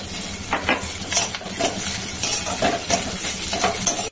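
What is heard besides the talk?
stirring egg and pointed gourd with a spatula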